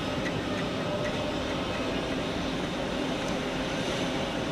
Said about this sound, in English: At the other side we have Swiss with an A321neo.